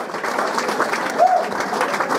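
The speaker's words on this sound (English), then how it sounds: "Let's have a big round of applause for Steve Tom that's pulled all this together" An auction audience breaks into applause, a brief spell of clapping at moderate level with a faint tone or voice briefly over it.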